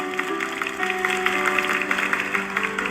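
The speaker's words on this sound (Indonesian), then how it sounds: "Berikan tepuk tangan untuk Tuhan, haleluya." A church congregation claps together in a steady, dense patter of applause, loud and continuous, with sustained tones beneath it.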